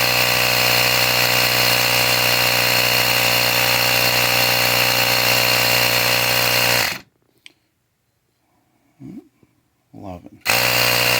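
Ryobi 18V One+ cordless tire inflator pumping: a loud, steady mechanical drone that cuts off abruptly, leaving near silence with a few faint knocks before the pump starts up again.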